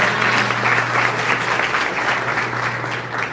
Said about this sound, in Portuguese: Olha lá, aplaude ele.